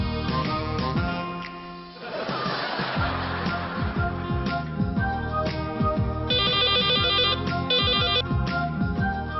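A melodic electronic phone ringtone plays continuously, a looping tune with bright repeated notes, close and steady with no voices.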